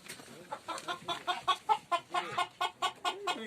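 Chickens on a desert poultry farm in Saudi Arabia cluck in a quick, regular series of close, clear calls, about a dozen in a row.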